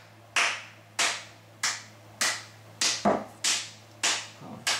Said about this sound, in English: So the loser is clapping for the winner.